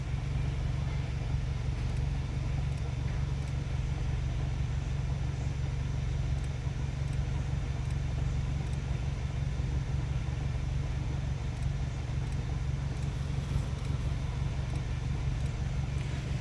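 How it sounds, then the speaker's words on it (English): A 2018 VW Jetta GTI with a transmission fault sits running, giving a low, steady engine rumble with faint periodic ticking, heard from close by over a long stretch without speech. "The car is running."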